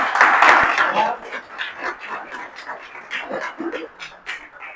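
Audience applause welcoming a new village soldier at a ceremony, a loud burst of clapping at first that thins into scattered claps and murmuring voices.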